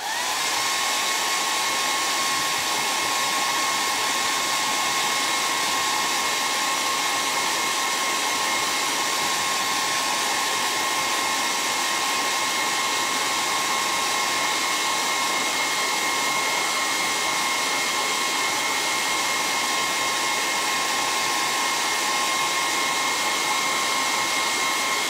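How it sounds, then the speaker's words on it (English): A hair dryer blows on hand-painted socks and shoes, a constant loud, breathy whoosh with a steady motor whine that runs unchanged for the whole stretch, close by and with no talking. "I'm gonna hit this with the hair dryer here."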